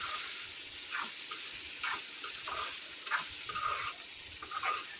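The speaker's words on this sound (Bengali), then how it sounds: "এখন মাংসটা ঢেলে দিয়ে অনেকক্ষণ যাবো একটু কষিয়ে নিব" Goat meat (mutton) stirred and sizzling in a pan as it is sautéed down, with soft scraping stirs recurring about every second over a low, steady fry, fairly quiet and close.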